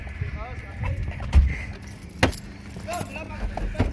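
Keys jangle in short metallic bursts near a parked car outdoors after a basketball game in the rain, with people talking and a background hum underneath.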